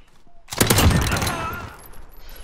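A burst of gunfire in the shooter game Modern Warfare Gunfight, several loud rapid shots fired together, after which a decaying echo trails away.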